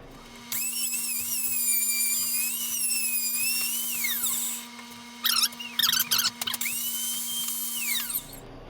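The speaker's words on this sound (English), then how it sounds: "Let the router come to a stop in the cut." Router cutting spalted, slightly rotting wood, a high-pitched motor whine that spins up, holds, then winds down, followed by a few short bursts of cutting and revving.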